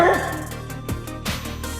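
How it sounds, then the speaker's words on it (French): A pet dog indoors gives a few short, sharp barks and yips, close and fairly quiet, over a steady hum of game music. "Il y a mon chien, il a aboyé là."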